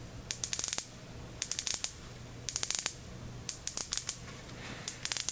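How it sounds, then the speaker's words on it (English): Solid gold 60-click unidirectional bezel with aluminum insert on a Tudor Black Bay Heritage S&G watch being rotated, giving close, crisp clusters of rapid ratcheting clicks in several separate bursts with short pauses between. "The solid gold 60-click unidirectional bezel with aluminum insert has a very smooth action when rotating it with a satisfying click"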